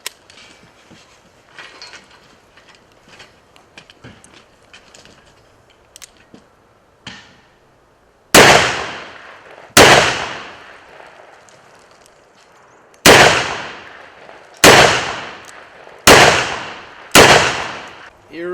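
Smith & Wesson Model 29 revolver test-fired on a range after a cylinder lock repair: six loud, sharp shots at irregular intervals, each with a decaying echo, preceded by quieter handling noise.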